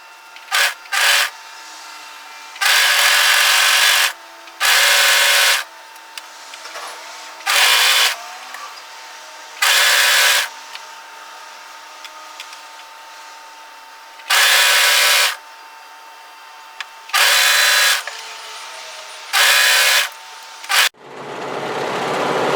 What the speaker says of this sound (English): So this gets overlocked to the wrong side.